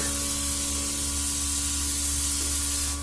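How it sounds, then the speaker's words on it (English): A Luminess Air airbrush spraying foundation makeup onto a face gives a soft, continuous hiss at close range, steady and even for a few seconds over a faint electrical hum. "spraying evenly over my face."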